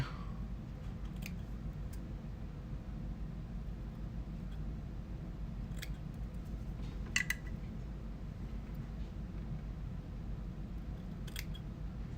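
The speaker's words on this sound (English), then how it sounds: "And any of those rogue little pieces that were sticking up, I'll trim them away." Scissors trimming stray fibres of fly-tying material on a Game Changer fly at a vise, a few faint, sparse snips over a steady low hum.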